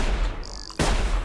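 A sharp, loud gunshot cracks out alone in the survival game Sir, You Are Being Hunted, following a quieter stretch with a brief whistling tone, and ambient noise continues after the shot.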